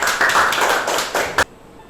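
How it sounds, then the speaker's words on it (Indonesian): Students in a class clap their hands in a short, loud burst that lasts under a second and a half. A final sharp clap ends it, and near-silence follows. "kita berikan tepuk tangan dulu, ya"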